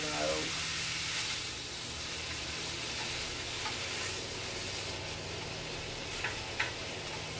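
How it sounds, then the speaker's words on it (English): A stove vent fan running on low gives a steady, even hum and airy whoosh throughout, with faint sizzling of beef frying beneath it and a couple of small clicks near the end. "I'm going to turn my little vent on low."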